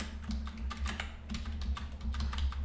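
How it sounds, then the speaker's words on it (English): Rapid typing on a computer keyboard with a faulty, sometimes unresponsive key: quick, irregular clicks of keys pressed close by, running steadily against a low background hum, with no speech. "when I'm typing, when I'm pressing a key, for some reason it doesn't respond sometimes"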